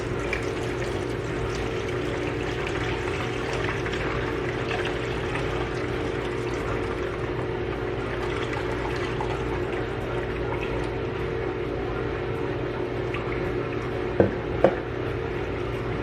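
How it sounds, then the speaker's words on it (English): Juice is poured through a mesh strainer in a continuous, close, even splashing stream that runs for about sixteen seconds, with a couple of small knocks near the end. "I'm gonna pour it through here and hopefully catch most of the foamy grossness that I don't want."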